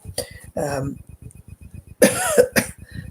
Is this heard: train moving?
no